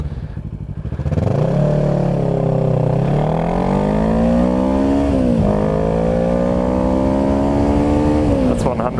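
A 2013 Kawasaki Ninja 650R (ER-6f) motorcycle revs and pulls hard from a standstill, its engine note climbing steadily through several gear changes, loud and close, ending with a brief pop as the throttle closes.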